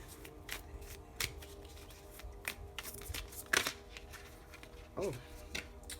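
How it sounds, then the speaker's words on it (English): Tarot cards being shuffled and drawn, with quick soft riffling clicks and flicks scattered close by, quiet and uneven, with faint background hum. "So let's pull one more card for Divine Feminine."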